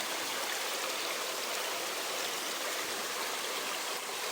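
Tai Shing Stream flows and splashes in the rain as a continuous, dense rush of water, steady and close throughout.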